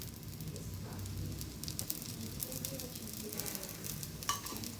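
Dosa batter roasts in oil on a hot tawa, giving a steady close sizzle and crackle with faint scraping, moderately loud and continuous, with no talking.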